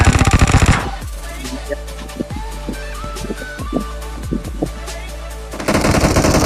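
Automatic gunfire in the mobile game PUBG Mobile rattles in loud rapid bursts, with dense fire at the start and end and sharper scattered shots in between.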